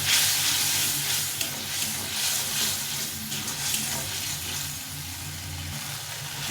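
Fish with turmeric sizzles continuously in hot oil as it is stir-fried in a pan, a steady close hiss with faint stirring scrapes.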